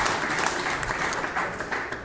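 A comedy showcase crowd breaks into a short burst of clapping and cheering, dense and fairly loud, with slight surges in intensity across the brief stretch.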